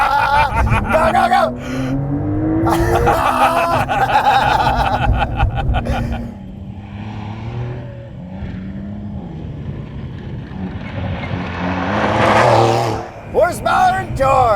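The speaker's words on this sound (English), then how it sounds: "'24 Porsche 911. Dakar with rally launch control mode. In the dirt." A 2024 Porsche 911 Dakar with a 3-liter twin-turbo six-cylinder boxer engine launches on dirt in rally launch mode, revving hard through rising gear pulls, while passengers exclaim and laugh over it.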